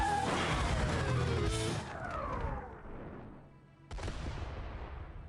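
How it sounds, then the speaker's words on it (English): A cartoon explosion from an animated Helluva Boss episode bursts loudly at the start, a broad crashing roar that rumbles and fades over a few seconds before a second blast-like burst cuts in near the end. "Ooh, that's a nice explosion."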